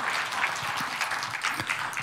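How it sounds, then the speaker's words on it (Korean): An audience at a political gathering claps in a dense, even burst of applause, fairly close and unbroken for a couple of seconds. "여러분 박수 한번 쳐주십시오."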